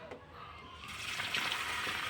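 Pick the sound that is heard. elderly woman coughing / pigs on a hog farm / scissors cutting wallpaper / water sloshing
water sloshing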